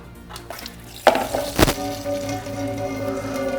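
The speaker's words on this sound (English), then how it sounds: "we're gonna open up the drain bolt and let the oil" Engine oil from a BMW X5 E53 4.8is pours out of the opened drain bolt into a catch can, starting with a sudden splashing burst, then settling into a steady liquid gurgle and stream that continues to the end.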